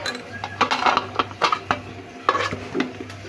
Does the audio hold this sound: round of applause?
no